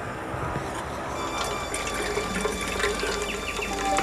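Water pours steadily into sunken unglazed clay pots in an urban rooftop garden, a continuous close splashing and gurgling fill with no voices.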